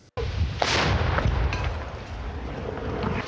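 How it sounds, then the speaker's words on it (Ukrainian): A sudden heavy boom opens the clip, followed by a long rolling rumble and echoing thuds of artillery fire in the distance, shelling of a war front position in Ukraine. "І той обстріл, під який потрапила і наша знімальна група"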